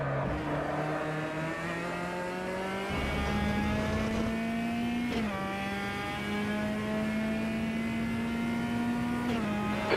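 Race car engine from the Automobilista racing game, a Copa Petrobras de Marcas touring car at Circuit Thermalit, droning steadily with rising harmonic pitch through gear changes, loud and continuous with no talk.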